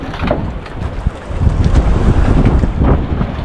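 Sea waves slapping around a small boat out on the water, with gusty wind buffeting the microphone; choppy, uneven surges of water and rumbling wind noise, no voices.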